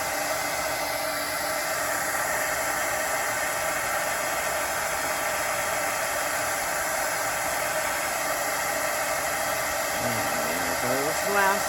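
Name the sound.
heat tool used for heat embossing a card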